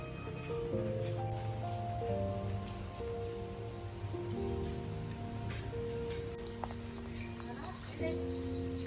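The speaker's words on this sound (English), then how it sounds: "suddenly it started raining heavily" Heavy rain in Vietnam pattering steadily on surfaces, a dense hiss with scattered drops, heard under voices and tonal sounds throughout.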